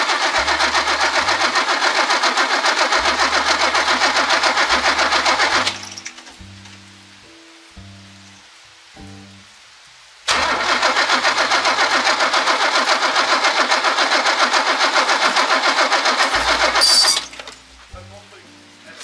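An old Mercedes engine cranks loudly in two long bursts separated by a quiet pause with a few soft clunks, the starter churning without catching.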